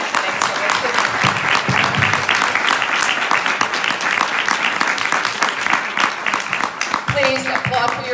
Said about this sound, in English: Please applaud for yourselves too